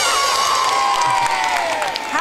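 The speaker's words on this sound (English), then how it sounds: "give him a massive big cheer" Studio audience at a television magic show cheering loudly, a dense, sustained roar of whoops and shouts with children's voices that fills the whole stretch without a break.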